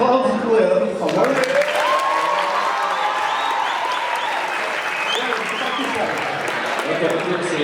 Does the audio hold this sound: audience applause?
yes